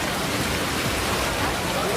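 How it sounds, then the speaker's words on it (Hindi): Heavy rain pouring down near the Dwarkadhish temple in Gujarat, a dense, steady hiss of falling water that stays loud and even throughout. "जोरदार बारिश हो रही है।"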